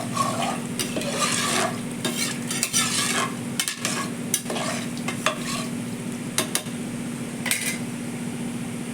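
Rice and lentil mixture being stirred in a pan with water added, a spoon scraping and clinking against the metal in steady strokes over a constant low sizzle, close and moderately loud, with no talking.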